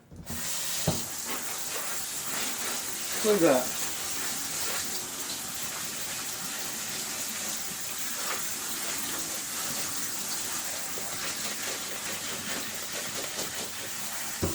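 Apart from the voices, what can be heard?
rinsing pasta noodles with cold tap water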